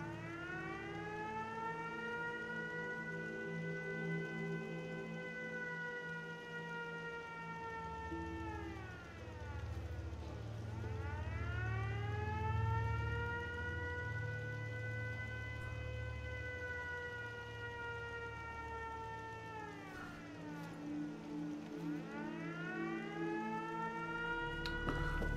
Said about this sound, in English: I'm gonna turn off that godforsaken siren